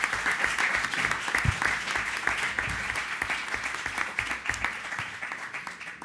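A conference audience at a round-table panel applauds steadily for several seconds, dense clapping that gradually thins toward the end.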